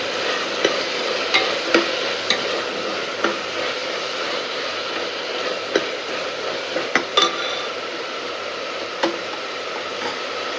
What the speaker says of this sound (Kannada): ಶುಂಠಿ ಬೆಳ್ಳುಳ್ಳಿ ಪೇಸ್ಟ್ ಹಾಕಿ ಚೆನ್ನಾಗಿ ಮಿಕ್ಸ್ ಮಾಡ್ಕೊಳ್ಬೇಕು